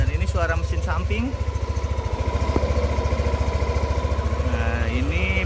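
Side of an idling Yamaha Aerox 155 scooter engine heard up close, a steady rhythmic putter with a light mechanical whine, with short bursts of speech at the start and end.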